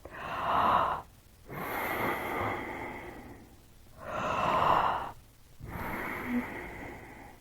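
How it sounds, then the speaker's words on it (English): A slow, deep jaw-dropping breathing exercise: four long, airy breaths, each about a second or two, alternating in-breath and out-breath. The breaths are close and soft, with brief quiet gaps between them and no speech. "this jaw-dropping breathing method"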